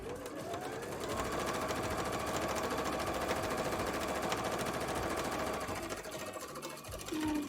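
A sewing machine stitching petticoat fabric runs in one steady, rapid mechanical rattle, close and loud for most of the stretch, then briefly slows and stops near the end before starting up again.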